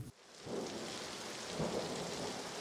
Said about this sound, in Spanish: Llovía tan fuerte que ya no podía oír el chirrido de los insectos afuera.